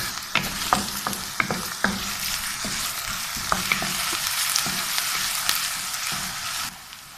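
Onions being fried in a pan for aloo gobi: an even, close sizzle punctuated by sharp spoon taps and scrapes against the pan, more frequent early on, with no speech.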